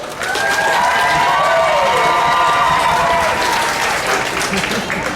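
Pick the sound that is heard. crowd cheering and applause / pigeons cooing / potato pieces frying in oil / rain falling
crowd cheering and applause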